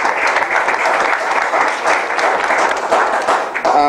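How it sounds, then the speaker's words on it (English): A large audience claps and applauds steadily at a Dallas Peace Center event, dense continuous clapping at close range with no pauses throughout. "clap and applaud for over 30 years of doing peace and justice work"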